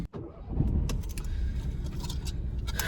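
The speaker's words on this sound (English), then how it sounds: "Let's start the car." A car is started amid a jingle of keys, and its engine then settles into a steady, close low rumble for the rest of the moment, with no one talking.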